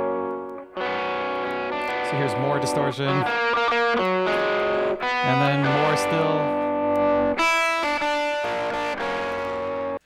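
Heavily distorted, saturated music passage run through an audio compressor driven hard for a dramatic effect, loud and dense with abrupt chord changes; someone speaks briefly over it.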